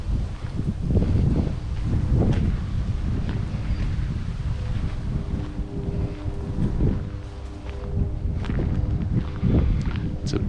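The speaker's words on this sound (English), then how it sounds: "It's a bit of a windy day today, so you can hear the rustling of the leaves" Gusty wind buffets the microphone while leaves rustle steadily at Lake Chautauqua, with occasional soft crackles and low rumbling gusts rising and falling throughout.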